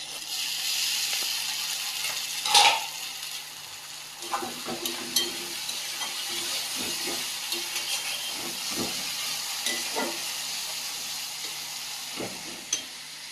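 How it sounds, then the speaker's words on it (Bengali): Tomato paste hitting fried ginger and garlic in hot oil gives a continuous, close hissing sizzle, punctuated by scattered clicks and scrapes of stirring throughout. "আদা রসুনটা ভাজা ভাজা হয়ে গেছে দিয়ে দেবো টমেটো পেস্ট"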